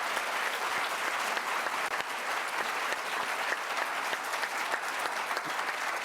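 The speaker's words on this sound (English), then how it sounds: "So for her, we should applaud that." Audience applause at a forum event, many hands clapping in a dense, steady patter that holds a constant level for several seconds, with a few sharper individual claps standing out and no one speaking.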